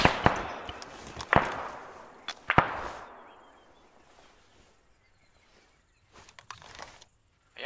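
Gunshots in a military video game ring out as three sharp, loud cracks in quick succession, then die away into near silence broken by a few faint, distant pops.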